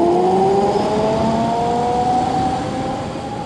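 An electric bike's motor whines upward in pitch as it accelerates hard from 0 to 100 km/h, loud and close, with rising tones and rushing wind noise.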